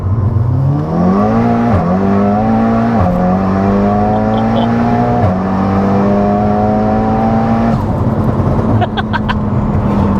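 A 600+ BHP petrol Mk7 Golf R Estate engine revs loudly and close, its pitch climbing in stepped surges with brief drops between them, then settling near the end as a few clicks sound.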